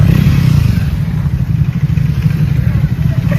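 Triumph motorcycles riding together in a group charity ride, a dense low engine rumble rolling steadily at close range, with voices talking over it.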